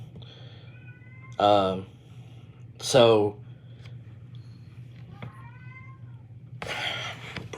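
Indoor cats meowing nearby: two loud, drawn-out meows a second or so apart, then a fainter cry and a longer mewling call at the end, with someone speaking briefly in between.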